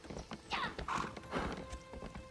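A horse in the Elder Scrolls Online video game clip-clops with a few hoof strikes and gives a bright, close whinny, with faint mechanical clicks in the background and no talking.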